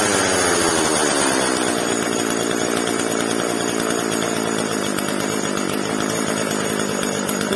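A Husqvarna 136 chainsaw idles after carburetor adjustment, a loud, close, continuous buzzing two-stroke drone with a slight rise at the start, then holding steady throughout.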